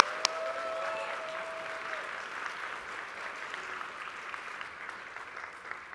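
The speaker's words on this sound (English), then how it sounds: "Let's give Caitlin a round of applause" Steady applause from a church congregation at a family ministry Sunday service, a dense even patter of many hands clapping for about six seconds at moderate volume, with no speech over it.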